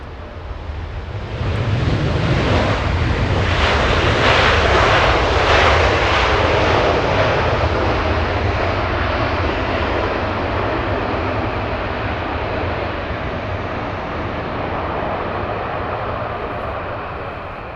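A Delta airliner on short final into Los Angeles International swells in from near silence to a loud, close jet roar that peaks early, then fades slowly as it passes, with no speech.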